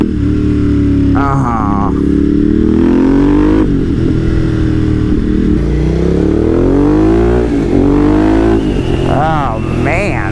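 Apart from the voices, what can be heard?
Ducati Monster motorcycle engine revving on downshift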